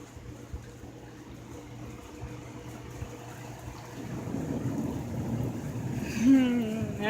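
Heavy rain from a storm comes through an open door as a steady broadband wash, growing louder midway, with a brief rise of wind or a passing sound near the end.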